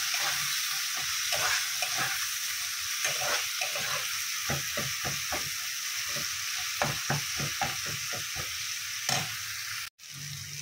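Tomato masala frying and sizzling in a pan as cumin and coriander powder are stirred in, a steady hiss under repeated scraping strokes of a spoon, close and continuous with no talk.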